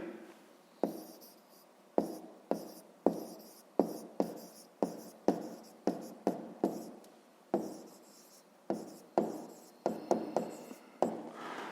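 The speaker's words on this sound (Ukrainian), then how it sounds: "записуємо тоді Федоренко Федір" Names being written by hand on paper, with quiet close pen strokes in short regular scratchy bursts and tiny pauses between them.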